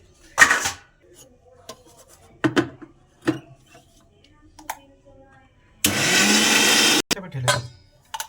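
A blender grinding boiled spinach, coriander and ginger into paste runs in one loud, steady burst of about a second, amid scattered clatter and short kitchen bumps.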